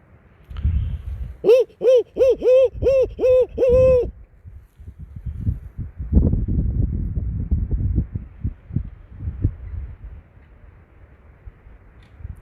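An owl hoots on a spring night, several evenly spaced calls in a quick series, fairly near, followed by rustling and strong gusting wind noise across the microphone.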